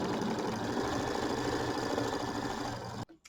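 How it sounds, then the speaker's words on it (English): A sewing machine stitching a dense satin stitch around an appliqué chick on a Kimberbell mini quilt, a steady fast mechanical whir and rapid needle clatter that runs nearly three seconds, then stops abruptly. "I'm going to go ahead and do the satin stitch around my little chick here"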